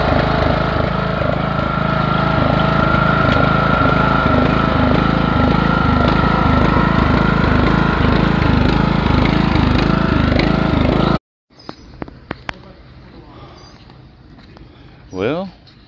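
A ride-on lawn mower engine drones steadily and loudly with a pulsing chug for about eleven seconds, then cuts out abruptly, leaving quiet with a few clicks.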